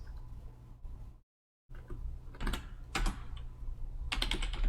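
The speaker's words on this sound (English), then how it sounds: "did I type it right?" Someone types on a computer keyboard while installing Kali Linux in VirtualBox, giving close, crisp key clicks in irregular bursts, with a brief silent gap near the start, and no talk over them.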